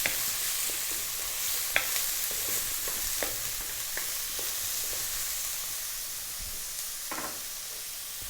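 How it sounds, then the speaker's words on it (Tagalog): Onion stirred into hot oil with toasted garlic and ginger, a steady close frying sizzle with scattered scraping clicks from the spoon, no voices. "Lagay na po natin yung ating onion. Haluin ko lang sandali."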